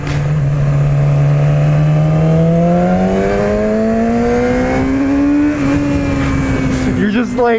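A 2016 Yamaha R6 sport motorcycle accelerates hard, its loud engine note climbing steadily in pitch for several seconds before easing and rising again, with wind rush and a voice talking over it.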